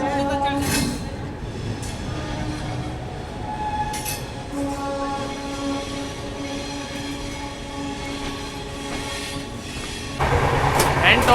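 Malwa Express, running from Indore through Delhi to Shri Mata Vaishno Devi Katra, halted at New Delhi station: a steady rumble of rolling stock and platform noise with speech mixed in. A louder burst arrives near the end.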